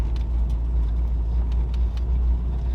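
A turbocharged Acura RSX cruises along a street, its steady engine and road rumble droning low and continuous from inside the car with no talk.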